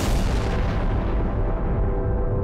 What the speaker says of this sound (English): exploded